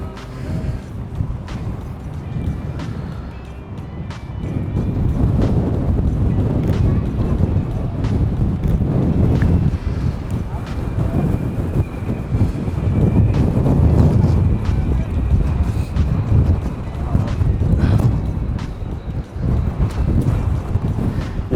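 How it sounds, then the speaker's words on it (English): Strong wind gusting across a street outdoors, a loud steady low roar buffeting the microphone throughout, swelling after the first few seconds and staying heavy with brief surges, no talking over it. "It is windy."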